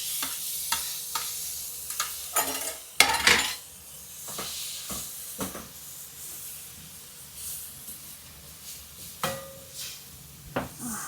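A spoon stirs tomato masala for dal khichdi as it fries in a pan, with sharp metallic scrapes and clinks over a continuous sizzle and hiss, the louder strokes coming in irregular bursts.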